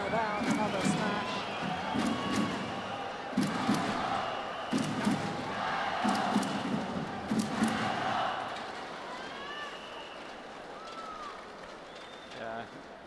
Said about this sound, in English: Big cheer from the crowd every time that Fu Haifeng was about to thunder down another smash